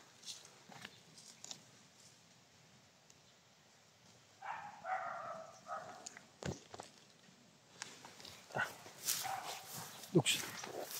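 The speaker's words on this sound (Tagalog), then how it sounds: "Dogs." Dogs bark in short, scattered bursts in a hot outdoor setting, fairly faint and somewhat distant. They are mixed with quiet voices, footsteps and background noise, and grow more frequent toward the end.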